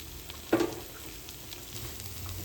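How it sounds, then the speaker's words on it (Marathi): A piece of surmai (kingfish) fries in a pan with a soft, steady sizzle, one brief louder crackle early on, then a low, even hiss. "तर दुसऱ्या साईडून तिला जे आहे व्यवस्थित फ्राय करून घेऊया।"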